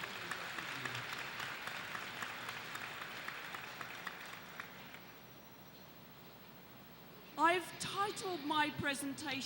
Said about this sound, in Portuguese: uma salva de palmas para essas pessoas